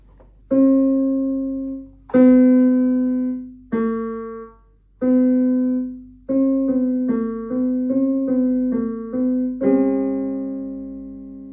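Piano notes played one at a time with the left hand, starting on C, some held and ringing, then a quicker run of shorter notes, clear and alone.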